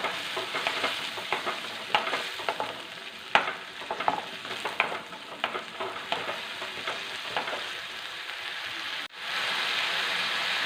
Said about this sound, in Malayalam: എണ്ണ തെളിയണം അതുവരെ നമുക്കൊന്ന് വഴറ്റാം